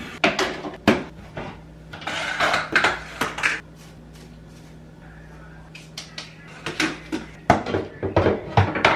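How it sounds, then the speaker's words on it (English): A coffee maker is taken out of a dishwasher, producing close clattering knocks of dishes and rack parts and a rolling drawer sound in bursts, with a quiet pause in the middle. "We are now taking the coffee maker out of the dishwasher"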